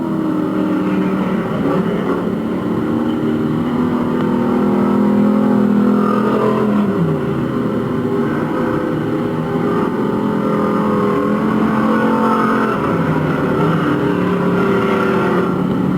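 Race cars run a heat on an oval track, engines droning steadily and loudly throughout, with pitch shifting as the cars pass and swing around the turns.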